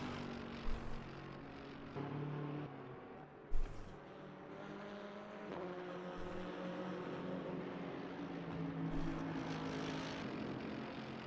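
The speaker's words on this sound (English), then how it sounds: "Can I actually hear a plane in game?" A propeller airplane in a racing video game at Sebring drones steadily through the whole stretch, a low engine hum with a few sharp clicks and bumps over it.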